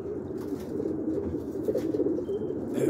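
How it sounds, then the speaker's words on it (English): Pigeons cooing around a porch, a steady overlapping murmur of low coos that carries on without pause at moderate, fairly close level. "See all the pigeons up."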